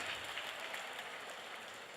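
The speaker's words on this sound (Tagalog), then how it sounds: "Palakpak tayo, mga choir members at korista." Applause for choir members at a concert, a steady hissing wash of many hands clapping, heard fairly faint and distant throughout without any talk on top.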